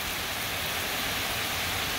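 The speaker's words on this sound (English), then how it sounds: "I want you to at least experience this rain with me" Steady rain falls without a break, a dense broadband hiss of drops on surfaces, moderately loud and even throughout with no voices.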